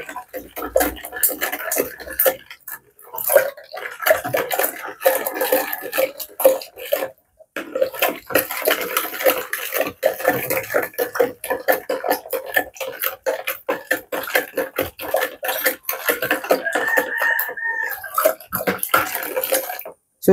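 Water splashes and gurgles as it is poured into a container for homemade rambutan probiotic vinegar, an uneven, continuous pour with drips, and a voice speaks at times alongside it.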